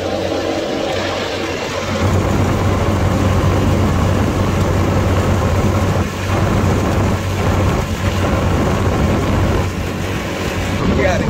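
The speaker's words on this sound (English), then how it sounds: "Just stop raining." Steady rain pours down outdoors, a loud, dense, continuous hiss that barely changes, with low rumbling underneath throughout.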